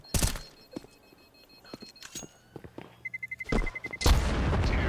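A bomb detonates in Counter-Strike 2 during a Dust II tournament match, arriving as a loud broadband boom near the end after rapid beeping, with scattered gunshots and footsteps earlier.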